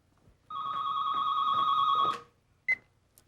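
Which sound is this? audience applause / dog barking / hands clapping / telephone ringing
telephone ringing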